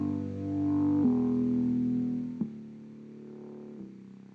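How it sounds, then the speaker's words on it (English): Deep wave bass synth in a drum and bass tune, playing long sustained low notes that ring out and shift pitch a couple of times, heard alone. "So I also had the deep wave bass,"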